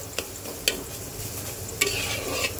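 Taro stem chutney being stirred in a pan, a steady soft sizzle broken by a few sharp scrapes of the spoon against the pan, close and fairly quiet.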